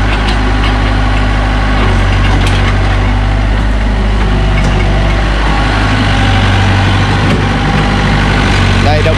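The diesel engine of a 2007 Doosan 55W wheeled excavator idles nearby in a loud, steady low rumble, with someone talking over it.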